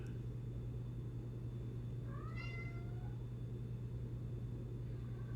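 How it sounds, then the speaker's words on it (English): A cat meows once, faint and distant, over a steady low background hum on a cold evening indoors during a card game, with no talk over it. "Is that a cat in the background?"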